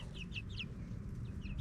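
Several short chicken clucks from a backyard hen flock, repeated bursts close by over a steady low rumble of background noise.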